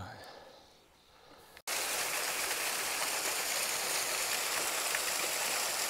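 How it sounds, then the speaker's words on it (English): Waterfall on the Isle of Mull during a hike near Ben More, a loud steady rushing roar of falling water that cuts in abruptly after a quieter open-air stretch and continues unbroken. "I'd quite happily stand underneath that waterfall."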